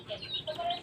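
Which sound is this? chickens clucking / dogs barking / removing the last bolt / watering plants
chickens clucking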